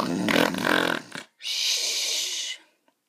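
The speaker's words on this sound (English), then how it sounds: "Princess Marge was naturally the loudest snoring dragon." A cartoon dragon princess gives one loud, rasping snore, then a long hissing, whistling breath out, then silence.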